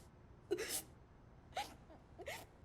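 Someone crying out in a passage, heard as three short, faint sobbing or whimpering bursts spaced about a second apart, distant and muffled over a quiet background.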